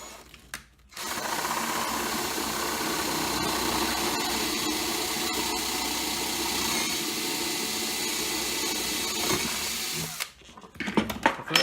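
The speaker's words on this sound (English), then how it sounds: "Just put that on and drill the holes." A power drill whirring steadily as it bores holes in a wooden tackle box, one long, loud, continuous run of about ten seconds, with short clicks and handling noises just before and after.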